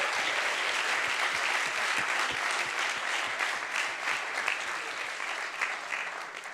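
Sustained applause from a conference audience at a council meeting in Budapest, an even, continuous patter of many hands clapping at moderate level with no break.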